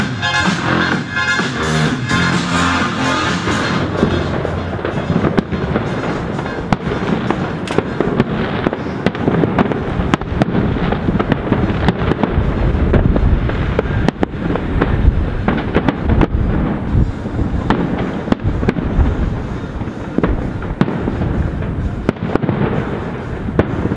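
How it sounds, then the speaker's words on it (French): Fireworks display over Montréal's Jacques-Cartier Bridge at its inauguration, synchronised to radio music, a dense continuous barrage of crackling bursts and booms lasting throughout, loud and steady with no talk. "on se met dehors, on regarde les feux d'artifice comme ça."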